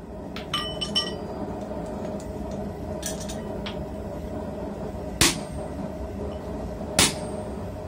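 A hammer drives a bevel chisel to slit the eye of a hammer head, ringing out in two bright metallic strikes after a few lighter taps, all over a steady background hum.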